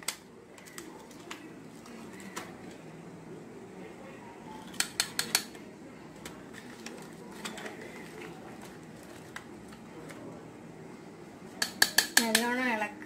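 A spoon stirs milk powder into milk in a pot, with scattered metallic clinks and scrapes and a cluster of sharper taps near the end, under faint background sounds.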